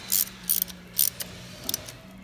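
Bolts on a gearbox plate are tightened during a vertical bearing shaft replacement, giving a near, rhythmic ratcheting in short bursts over a low steady hum, with no voices.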